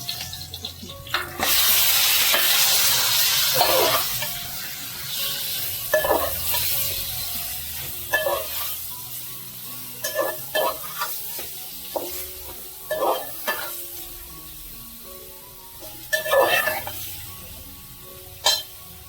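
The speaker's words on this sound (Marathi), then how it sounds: "लसूण आलं आणि कोथिंबीर मिरची सगळं एकत्र ठेचलं आहे जरा ब्राऊन करूया थोडा" Crushed garlic, ginger, coriander and green chili fry in hot oil for a pomfret fish fry, sizzling loudly at first, then quieter with repeated scraping stirs and brief bits of talk.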